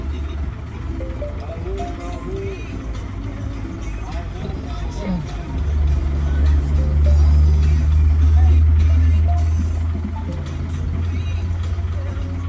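Heavy trucks rumble past on the Parung Kuda toll road exit, a deep low engine drone swelling louder in the middle and then easing, with steady traffic noise throughout.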